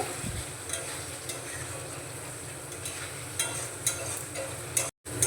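Mushroom masala with a little kasuri methi being stirred in a hot pan: a soft continuous sizzle with intermittent spoon scrapes up close, briefly cutting out near the end, and no voices.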